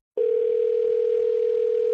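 Telephone dial tone on a call to a phone number, one steady unbroken electronic hum that starts abruptly after a short silence and holds at an even level, clear and alone.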